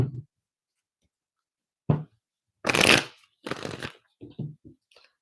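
Tarot cards are shuffled and riffled in short bursts, with soft taps and flicks between them, quiet and close.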